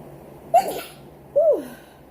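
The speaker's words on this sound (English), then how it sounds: "ooh, I gotta sneeze" Two sharp sneezes about a second apart, close and fairly loud, from a person pausing mid-talk while preparing a king crab seafood boil.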